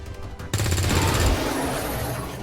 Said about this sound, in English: I think I will simply finish you with an SMG hit